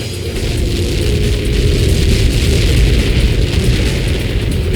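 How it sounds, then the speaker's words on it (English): A massive projectile-impact explosion in the jet combat game Ace Combat 7 sounds as a sustained loud, dense roar with deep rumbling and crackling debris noise that continues evenly throughout, with no voices. "How many got caught in that explosion?"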